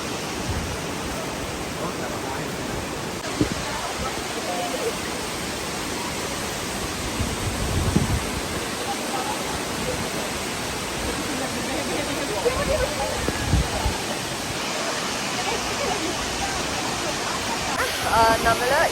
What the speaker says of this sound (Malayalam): നമ്മൾ നേരത്തെ മോർണിംഗ് കണ്ട ഫാൾസിൻ്റെ താഴെ വന്നേക്കുവാണ്